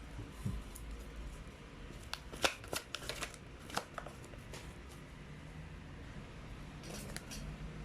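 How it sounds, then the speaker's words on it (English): Tarot cards shuffled and drawn by hand, a soft steady riffling with several crisp snapping flicks of cards clustered in the middle and again near the end, close and fairly quiet. "Let's try to pull up another set of cards."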